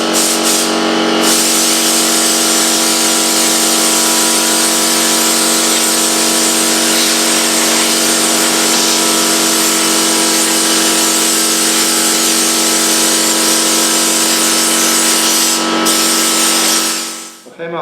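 A compressor machine runs in a workplace with a steady, loud, continuous hum and hiss that holds unchanged for the whole stretch before cutting off abruptly at the end.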